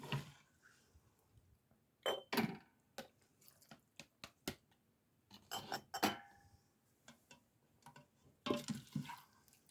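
Spoonfuls of pot roast sloppy joes are loaded into glass canning jars, giving soft wet plops and sharp glassy clinks and taps in scattered bursts, close and fairly quiet, separated by near-silent pauses.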